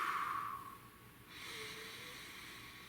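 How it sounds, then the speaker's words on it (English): One deep, slow breath fills the quiet: a long, airy inhale fades out, then a softer, steady exhale follows, close and with no one speaking. "Let's breathe."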